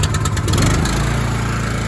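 A pressure washer engine on a machine left unused for about two days catches after the choke is set, rough sputtering settling into a steady low running hum, fairly close.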